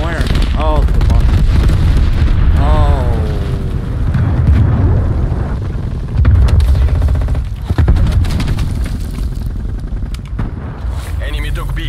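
Bomb explosions and heavy gunfire roar in a Call of Duty: Black Ops Cold War match, a loud continuous rumble with sharp booming bursts, overlaid by spoken voices and radio-style game dialogue.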